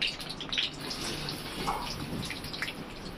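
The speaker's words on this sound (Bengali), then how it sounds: "পেঁয়াজটা একটু হালকা নরম করব, নাড়াচাড়া করে।" Onions softening in a pan for beef do pyaza crackle and sizzle at close range, with scattered spatula scrapes and stirring clicks over a steady hiss, no speech.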